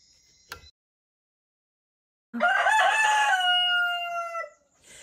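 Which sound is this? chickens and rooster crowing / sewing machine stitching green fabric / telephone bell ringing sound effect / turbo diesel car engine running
chickens and rooster crowing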